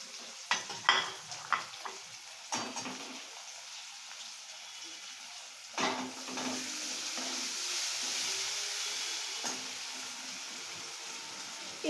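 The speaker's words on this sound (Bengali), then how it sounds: "যেহেতু পনির বেশি ভাজতে হয় না" Paneer fries in a pan with a steady, soft sizzle, broken early on by several sharp clinks and scrapes of a utensil stirring against the pan.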